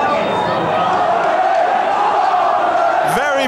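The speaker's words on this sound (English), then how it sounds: "Very buoyant crowd here" Buoyant football crowd in a Burnley stadium, a sustained, loud wash of cheering and chanting voices with a sharper shout near the end.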